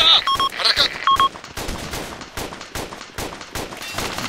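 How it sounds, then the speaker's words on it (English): Automatic and single-shot gunfire from the video game Arma II, several sharp bursts up front, then a steady run of cracking shots with distant echoing reports spread across the scene. "Think they're shooting from the hangar."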